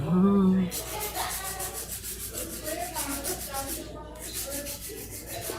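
An electric nail drill bit works over the cuticle area of a fingernail. It makes a close, high-pitched whir in short rubbing passes, broken by brief pauses.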